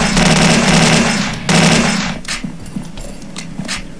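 Rapid automatic MP49 fire from the Slendytubbies video game rattles in loud sustained bursts, then gives way to a few scattered separate shots and clicks.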